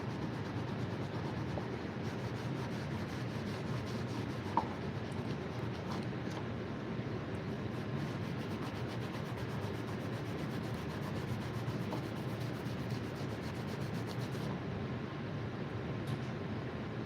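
A knife blade is polished with a steady, even rubbing hiss that runs without a break, with only a faint tap here and there.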